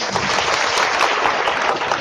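Audience applause at a jatra comedy show, a dense, steady wash of clapping from a large crowd that holds loud and unbroken throughout.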